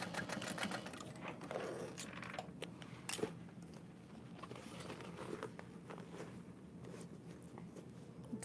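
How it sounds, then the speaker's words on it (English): A home sewing machine stitches seams in a quiet room, a faint, continuous mechanical whir with small clicks and rustles, no one talking. "Dorothy, I have 2 more seams to sew."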